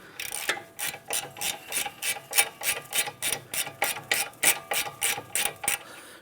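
Hand ratchet loosening hub assembly bolts on a Hyundai Sonata, a steady run of about fifteen evenly spaced, close metallic clicking strokes.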